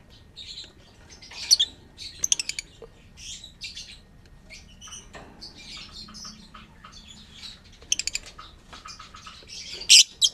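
Lovebird chicks being taken from the nest give sporadic thin chirps and squeaks, with brief bursts of sharper calls and faint rustling, close by and otherwise quiet.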